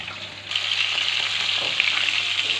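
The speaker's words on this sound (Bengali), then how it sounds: "উল্টো পিঠটা আরেকবার ভালো করে ভাজা হয়ে যাক, তারপরে তুলে নেব।" Prawns sizzle hard in a hot pan, a steady close frying hiss with oil crackle that swells after a brief quieter start and continues without voices.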